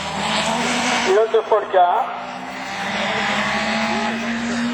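Rallycross race cars, including a Peugeot 205 GTI and a Honda, drone steadily at a French championship round at Lavaré, with engines revving under a commentator's loudspeaker voice.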